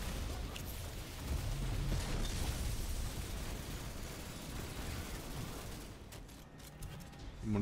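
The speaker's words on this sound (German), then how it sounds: "Dem schon mal eine Fusionsgranate an die Birne knallen." A fusion grenade goes off in the shooter game Destiny 2, a loud sustained burst of blast noise and crackling debris with battle effects, fading slightly before another sharp hit at the end.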